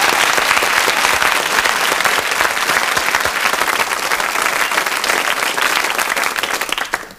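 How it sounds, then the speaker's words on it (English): A studio audience on a 1975 British whodunnit game show bursts into sustained applause, dense and loud, a steady wash of many clapping hands that holds for several seconds before fading at the end. "Round of applause."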